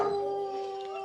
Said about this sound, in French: c'est les chiens souvent utilisés pour la chasse à courre